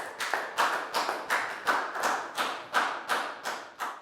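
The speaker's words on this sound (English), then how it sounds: "High five and a big round of applause for Bangpon, guys." A classroom group claps together in a steady rhythm, sharp slaps landing about twice a second, loud and close with no talking.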